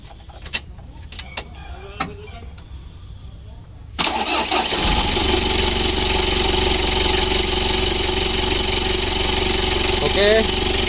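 A Mitsubishi L300 diesel engine cranks and fires after a few quiet seconds of small knocks, then settles into a loud, steady idle with a constant low rumble and clattery diesel texture.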